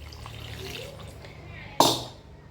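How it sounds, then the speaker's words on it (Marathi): Water is poured over homemade butter to wash it. A quiet stretch of soft handling sounds leads to a sudden close splash of pouring water that fades away over the next half second. "मी पाणी घालून घालून लोणी धुवून घेते"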